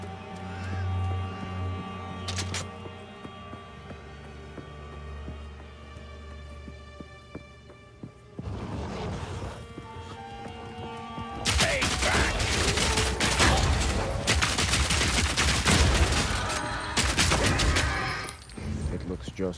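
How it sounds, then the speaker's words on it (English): Skill-triggered explosions in the action RPG Path of Exile 2 (mercenary class, Act 1), heard as dense, crackling bursts of rapid blasts that swell to a loud, continuous barrage over layered game music and effects. "Trigger an explosion."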